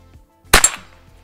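A single sharp rifle shot, fired to clear a stuck cartridge, cracks out loud and close and then decays over a short ringing tail against a quiet outdoor background.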